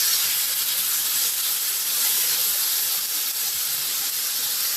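Two medium tomatoes, cut up, sautéing in oil in a pan for mushroom pepper masala, giving a loud, steady, even hiss that holds unbroken from start to end with no voices.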